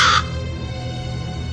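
A single harsh raven caw sounds loud and close for a brief moment, then cuts off into a low sustained musical drone from an audiobook reading of Poe's The Raven.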